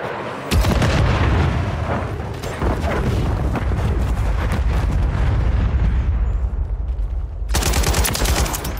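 Stun grenade blast in Call of Duty MW3 gameplay, a loud boom followed by dense continuous gunfire and explosions that thin out briefly before another burst returns.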